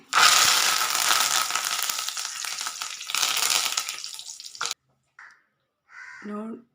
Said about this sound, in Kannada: ಇನ್ನದಕ್ಕೆ ಕರಿಬೇವು ಹಾಕ್ತಾ ಇದ್ದೇನೆ.